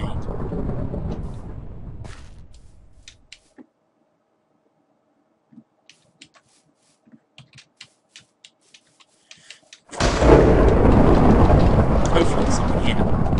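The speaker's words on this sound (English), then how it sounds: "This lightning is definitely after me." Thunderstorm in a survival video game: a heavy rumbling roar of thunder and rain fades out, sparse small clicks fill a quiet gap, then a loud thunder crash bursts in and continues.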